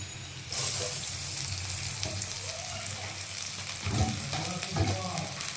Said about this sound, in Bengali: তো পেঁয়াজগুলো সব দিয়ে দিলাম